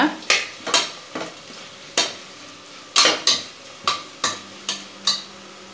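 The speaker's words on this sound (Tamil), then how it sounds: "இது நல்லா இறா கூட மிக்ஸ் ஆகிற மாதிரி நல்லா வதக்கணுங்க" Prawns being sautéed in a pan with turmeric and masala powders for prawn biryani, stirred in about a dozen sharp, scraping strokes at an uneven rhythm over a faint sizzle, close and fairly loud, with no talking.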